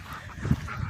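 A pet duck gives a short, soft honking call, close and faint, in a quiet backyard setting.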